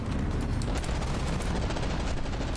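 Rapid, dense gunfire from battling craft in From the Depths, a loud, continuous rattle of overlapping shots filling the whole stretch without let-up.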